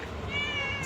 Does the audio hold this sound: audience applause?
no